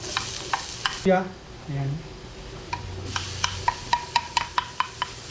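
Chopped onions tossed into a pan of simmering coconut milk and stirred, a soft splash and scrape followed by a steady run of spoon taps against the pan, with brief talk at the start.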